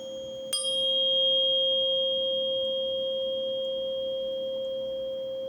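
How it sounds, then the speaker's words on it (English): A steady pure 528 Hz sine tone sounds alone and unchanging after a brief sharp click at its start, holding at an even moderate level with faint higher overtones. "528 hertz, and that is said to be the vibrational level of the fifth dimension"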